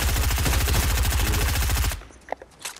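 Rapid automatic gunfire from another player in a Miles Morales video game, a loud, steady stream of shots lasting about two seconds before cutting off, followed by a few scattered fainter sounds.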